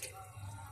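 Water is poured by the cupful into a pan on a gas stove, a faint, brief trickling splash.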